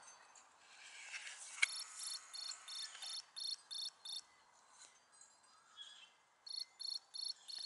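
A cricket chirps in steady repeated bursts of high, buzzy trills, clear and close in an otherwise quiet setting.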